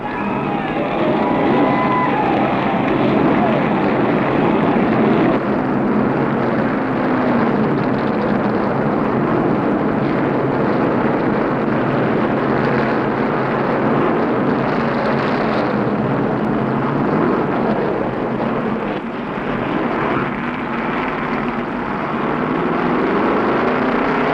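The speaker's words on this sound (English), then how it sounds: "Driver, twist your engine." Forty race car engines fire up together at the 1969 Rockingham NASCAR race, a dense, continuous roar from the field that stays loud and broad without a break.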